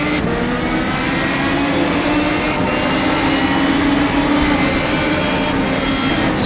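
A Radical race car engine roars at the race start at Toban Raceway in the rFactor2 racing game, a loud, steady, close engine drone that holds without a break and has no talk over it.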